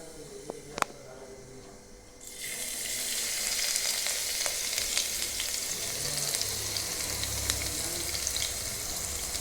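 Mustard seeds and cumin crackle in hot oil for tempering as crushed garlic goes in, a sudden jump to a loud, dense sizzle with scattered sharp pops that keeps on steadily, close by.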